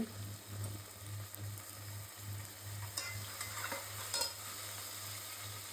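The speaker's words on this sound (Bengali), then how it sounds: "পেঁয়াজ আর গরম মশলার সাথে ভাজা হোক" Garam masala fries with onion in a pan for a country-chicken korma, giving a steady low sizzle with occasional light stirring clicks over a constant faint hum.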